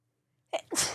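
A single sharp sneeze, a quick intake followed by a loud burst, close to the listener.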